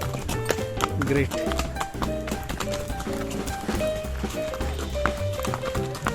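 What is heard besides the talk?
horse hooves clip-clopping on a ride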